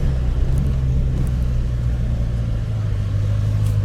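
A Callaway 757 hp supercharged C7 Z06 Corvette idling nearby, its loud, steady low engine rumble dominating with only a faint hint of supercharger whine above it.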